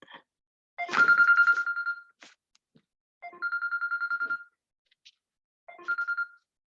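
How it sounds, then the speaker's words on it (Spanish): A mobile phone rings during a Spanish-language lecture on animal and human rights, its electronic ringtone sounding in three separate bursts with silent gaps between them, fairly close and clear, with no speech over it. "disculpen, no he cerrado el móvil"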